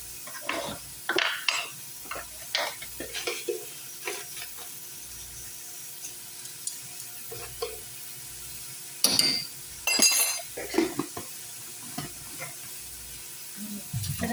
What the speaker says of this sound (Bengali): আমি ভালো করে এটাকে ভালো করে নাড়াচাড়া করে নিই।